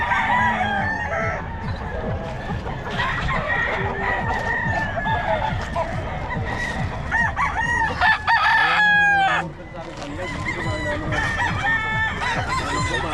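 Roosters and other chickens at a gamefowl farm crow loudly and repeatedly, nearby, over a background of clucking fowl, with one especially strong crow toward the middle.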